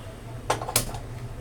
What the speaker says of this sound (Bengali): ফ্রাইং প্যানটা বসিয়ে দিলাম